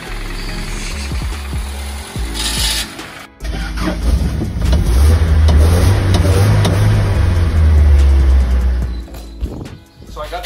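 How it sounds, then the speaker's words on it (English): Toyota Hilux, restored after 15 years sitting, with its engine started and running in a low, loud, rough rumble for several seconds that steadies then drops away, alongside talking and clanks. "So I got the truck going."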